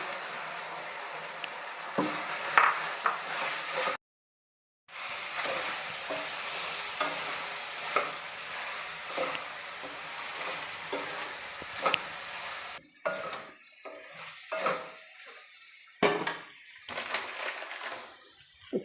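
Soaked, squeezed soya chunks frying in a pan for soya pepper fry, with a continuous close sizzle and scraping stirs. There is a short silent break, then sparser clacks of the spoon against the pan, and no voices.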